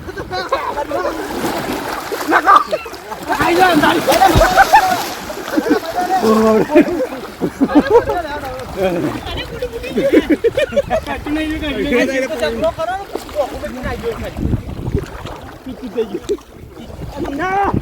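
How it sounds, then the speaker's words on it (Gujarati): People bathing in a river splash and slosh in the water, with bursts of splashing heard close by while several voices talk and shout over it. "ફાઇનલી આપણે નદીમાં ઉતરી ગયા છીએ અને ફાઇનલી નાવાની મોજ કરી રહી છે"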